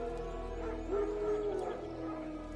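Wild dogs in The Witcher 3 bark and yelp from a short distance, with a whining, rising cry in the middle over a steady low game ambience.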